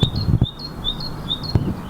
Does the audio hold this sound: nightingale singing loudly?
yes